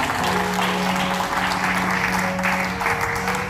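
A church congregation claps and cheers for Jesus Christ during a sermon, dense sustained applause with a constant roar throughout, fairly loud and close.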